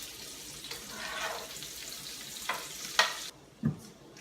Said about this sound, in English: While the onions are getting soft in the pan